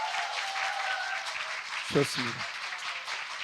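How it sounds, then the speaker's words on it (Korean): Audience applause at a Korean talk concert on office life keeps going as a continuous broadband patter, while a man's short spoken remark cuts in briefly near the middle. "여러분 큰 박수로 모시겠습니다."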